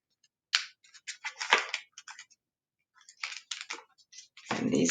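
A paper word-sort sheet folded in half, several crisp crinkling and creasing bursts in short clusters separated by a pause, close and fairly loud, ending in a sustained rustle.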